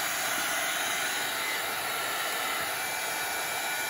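Hair dryer blowing steadily on a traveler's notebook to dry it, a constant close rushing hiss with no breaks and no speech.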